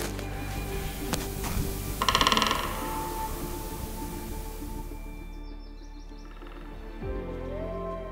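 Great spotted woodpeckers drumming on trees in a Finnish forest at night in Seitseminen National Park: one short rapid burst of knocks, fairly distant and echoing, over quiet woodland background with faint chirps.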